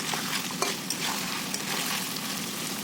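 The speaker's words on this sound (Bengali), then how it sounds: "এবারে আমরা আদা রসুনটার সাথে মাংসটা ভালোভাবে ভেজে নেবো তেলের উপরে" Chicken pieces frying with ginger and garlic in hot oil, a steady close crackling sizzle with occasional stirring scrapes, no voices.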